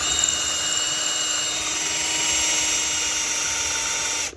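Tio Moon cordless impact drill running in normal drilling mode, a steady high-pitched motor whine held at constant speed for about four seconds before cutting off, close and alone.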